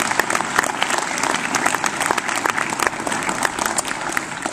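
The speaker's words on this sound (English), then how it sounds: "Let's give them a round of applause." Sustained applause from an audience at a council meeting, dense steady clapping throughout, close and fairly loud, with no talk over it.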